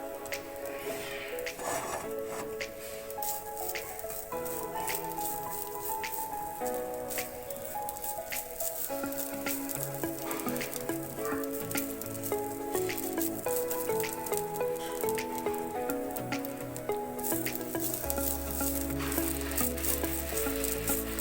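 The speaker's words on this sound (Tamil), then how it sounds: "அதை வந்து நம்ம நல்லா இப்படி ஃப்ரை பண்ணிக்கலாம்" Grated coconut frying in a pan, giving a continuous soft crackling sizzle that runs steadily close by. A few faint stirring sounds and a low background tone sit under it.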